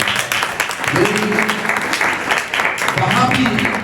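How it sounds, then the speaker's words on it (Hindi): A church congregation gives loud applause during a sermon, a dense clapping wash that runs for several seconds with voices talking over it. "चले जी, जोरदार ताली"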